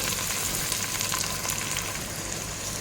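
Tomato puree hitting a hot frying pan for Kuwaiti-style mutton rice, a dense, even sizzle at close range, with no speech.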